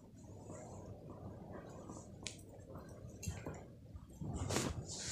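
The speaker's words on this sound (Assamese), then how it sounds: "এতিয়া তেল গৰম হ'বলৈ এতিয়া মাছখিনি প্ৰথমতে ফ্ৰাই কৰি ল'ম।" Fish frying in hot oil seasoned with turmeric and salt, a steady wet sizzle with bursts of spitting and popping that grow louder toward the end.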